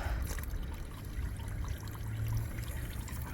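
Apple juice runs from the tap of a fruit press in a steady pour, a close, continuous trickling stream with a slight gurgle, heard alone without talk.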